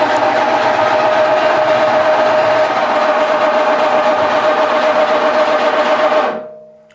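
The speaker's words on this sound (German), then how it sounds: "Und einmal ist die Platte hochgefahren." A motorized lift raises the glass top of a Glas Lifter Energy Com Table with a loud, steady mechanical hum and a constant whine that runs for about six seconds, then cuts off and fades out.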